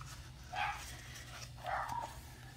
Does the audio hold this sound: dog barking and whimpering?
yes